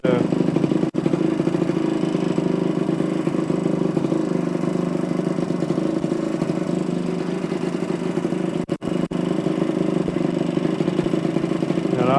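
A 1973 Suzuki TC125 motorcycle engine idles close by in a steady, even putter, with one brief dip and clatter partway through.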